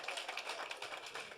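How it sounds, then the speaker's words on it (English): Audience applause for the director general of the Youth Council at a Kogi governorship campaign event for women, a brief burst of dense, steady clapping from a crowd. "Please, can we give him a round of applause?"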